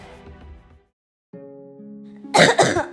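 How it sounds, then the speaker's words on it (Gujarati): Two loud, close coughs from a woman with a lingering cough, in quick succession near the end of a short indoor stretch that holds a few faint sounds. "ખાંસીએ તો ઘર કરી દીધું છે"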